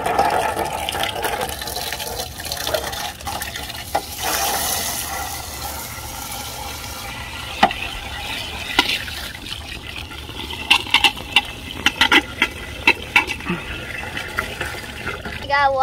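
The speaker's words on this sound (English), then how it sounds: "Now we gotta wash their tank off with warm water." Warm water from a hose runs and splashes while a hissing cockroach tank is washed, a steady gushing spray with a few sharp knocks and clatters toward the end.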